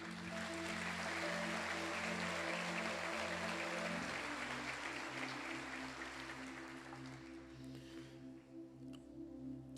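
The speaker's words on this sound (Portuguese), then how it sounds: "Aplauda o Senhor." A church congregation claps together for several seconds, a dense wash of applause that gradually thins and fades, with steady music tones sustained underneath.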